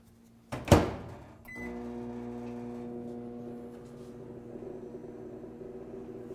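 A microwave oven hums steadily after a click and door thud at the start, running alone for several seconds while melting candy-making chocolate.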